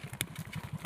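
A motorcycle arriving, heard as a faint, steady putter of engine pulses in quick, even rhythm, quiet and somewhat distant, with a light clatter over it.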